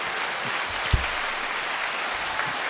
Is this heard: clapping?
yes